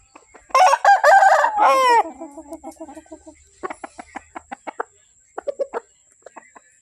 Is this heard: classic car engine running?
no